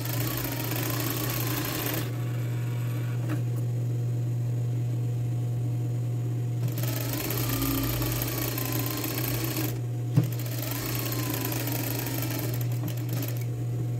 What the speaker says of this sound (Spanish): voy a coser a 5 milímetros